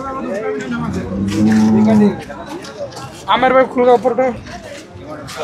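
A Murrah buffalo at a buffalo market lets out a long, deep moo up close, followed by people talking nearby.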